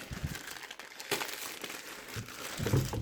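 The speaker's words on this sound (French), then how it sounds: "on va attaquer le déballage. On va ouvrir ça proprement" Packaging on a Xiaomi Redmi 5 Plus phone box crinkles and rustles as it is opened, a few close scattered crackles building to a louder crumple near the end.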